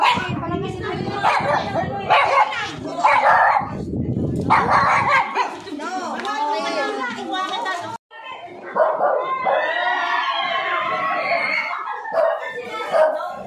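Several dogs yip and bark excitedly, mixed with high whimpers and lively voices, close by and fairly loud throughout.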